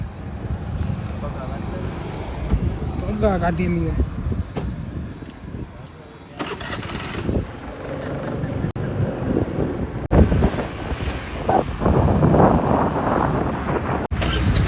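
A Honda Activa scooter carrying two riders on the way to a pizza store, with steady wind rush and engine drone throughout and people talking over the ride.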